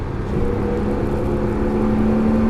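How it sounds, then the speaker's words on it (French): A car on a driving-school circuit at Issoire accelerates, its engine note droning and climbing steadily, heard loud and close from inside the cabin with no talking. "Et gaz, accélère."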